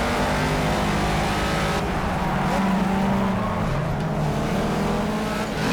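Loud, continuous engine drone of an M1 ProCar race car in Project CARS, holding a steady high whine that shifts pitch slightly as it rides through a corner, with no talk.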